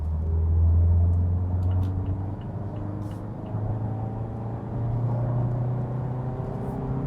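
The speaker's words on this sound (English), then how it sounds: "For example, here 60 kilometers to 100 in third gear." A naturally aspirated car pulls from 60 to 100 km/h in third gear, its engine droning loudly and steadily with a slowly climbing tone over road rumble from inside the cabin.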